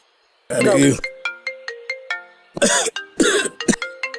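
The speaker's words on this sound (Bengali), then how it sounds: "ফোনটা ধরো।" A phone ringtone plays a repeating melodic pattern of bright electronic tones, near and clear, interrupted by a cough and throat clearing at the start and again midway.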